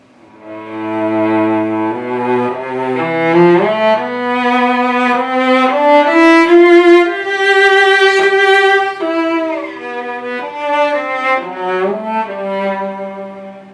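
A solo bowed cello plays a slow, singing melody with a broad, warm vibrato, each note swelling and wavering richly.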